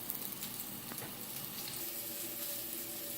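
Spice-rubbed pork searing in a hot pan for a brown crust, a continuous close sizzle and crackle with a faint scrape partway through, no talking.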